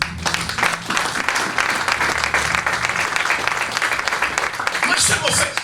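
A church congregation applauds together, a dense, steady wash of clapping hands that holds loud and close throughout, with voices mixed into the clapping.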